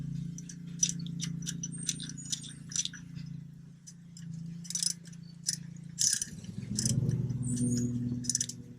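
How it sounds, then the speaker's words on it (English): A bolt is tightened on a new power steering pump on a 2008 Dodge Charger with a 3.5 L V6. Quick metallic clicks and a ratchet-like chatter come in short bursts over a low steady hum. "First bolt is going in on the new pump."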